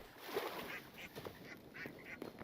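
A duck in Hytale gives a string of nasal, honking quacks in irregular bursts, fairly faint against a soft ambient background, with no talk over it.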